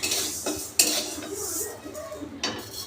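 Metal pots, pans and cutlery clink and scrape while mung dal dry-roasts in a kitchen, with sharp knocks and jangles scattered over a soft background rustle.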